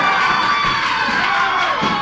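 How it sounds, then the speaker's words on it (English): At a wrestling arena, a crowd keeps up a loud roar of cheering and shouting, continuous and close, during a short stretch of a professional wrestling match. "You hear the crowd response here at Davis Arena."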